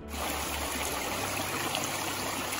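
An ice-cold mountain stream beside a trail shelter north of Albert Mountain on the Appalachian Trail flows steadily, a close, continuous broadband rush of water with no voices.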